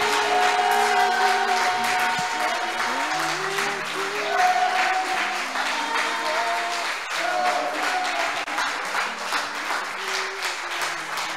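A congregation at a French-language church service applauds continuously, with sustained dense clapping under sustained sung or organ-like tones and occasional voices.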